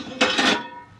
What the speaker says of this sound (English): Now turn your pan upside down. Put it back in there.